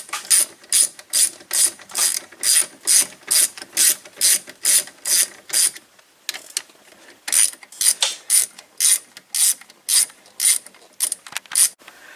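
A ratchet tightens bolts on the wheel bearing assembly of a 2000-05 Buick LeSabre, clicking in brisk, even strokes close up. After a short pause midway, a second run of quicker ratcheting follows, with no talking.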